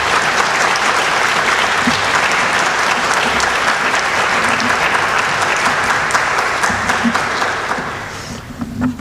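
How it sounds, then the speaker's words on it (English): A room of attendees at a memorial celebration applauds loudly and continuously for the moderator, a broad sustained clapping that thins slightly near the end. "Let's clap for Susan."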